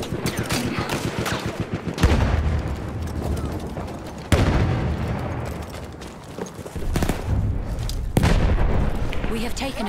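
Bomb explosions and gunfire in Battlefield 1 on the Suez map: loud, dense battle noise with rattling shots and several heavy booming blasts at intervals, while a player talks over the din.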